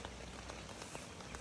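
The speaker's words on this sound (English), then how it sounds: "It's still raining, it's just been relentless." Steady, persistent rain patters on surfaces around a walkers' camp on the Dales Way, a soft continuous hiss with scattered individual drops, fairly quiet and without voices.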